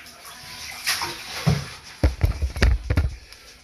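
Cold water splashes and pours from an enema bag filled with ice, with a faint trickle at first. Then comes a burst of irregular, close-up sloshing and spattering.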